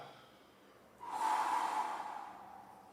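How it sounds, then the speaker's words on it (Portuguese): One slow, deep breath is drawn in and let out through the mouth, a soft airy rush that swells and then fades, demonstrated as diaphragmatic breathing for saxophone playing. "Isso seria mais ou menos a respiração diafragmática."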